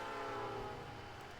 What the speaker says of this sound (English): Train's leaving any minute.